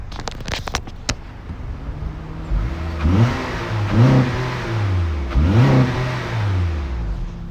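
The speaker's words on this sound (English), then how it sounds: "You can hear the engine, plenty of power, runs fine." A 2015 Honda Accord engine revs up three times in a row, each rise climbing in pitch then dropping back to a steady idle, heard fairly close.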